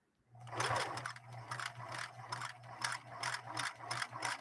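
Singer 6212C sewing machine stitching slowly, a near, steady run of rhythmic mechanical clicks and ratcheting ticks over a constant low motor hum, with no talking.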